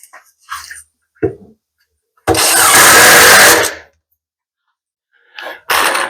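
Power driver running gold screws into a plywood cabinet: two loud, close bursts of whirring motor noise, the first lasting over a second, the second short and cut off, with quiet gaps and small knocks between.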